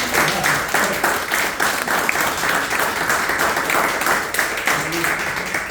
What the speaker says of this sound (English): If y'all wouldn't mind giving them a round of applause